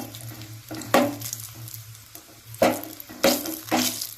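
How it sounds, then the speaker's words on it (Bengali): Panch phoron spice mix with white mustard seeds frying in hot oil gives short bursts of sizzling and popping, three or four crackling surges over a quiet background. "আমি ফোড়নটা দিয়ে ভেজে নেবো ভালো করে"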